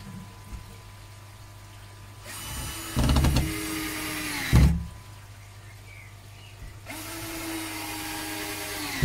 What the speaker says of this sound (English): I'm gonna carry on screwing here, screwing here, screwing here,